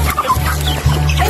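Free-ranging farm chickens in a forest clearing cluck close by, with several overlapping birds giving short, irregular calls over a low steady background hum.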